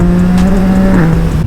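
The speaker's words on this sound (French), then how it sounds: "ta bécane, elle fait un boucan" Loud, close motorcycle engine revving hard with a quickshifter, a steady high roar holding pitch before a quick dip as a gear cuts in, then carrying on strongly throughout.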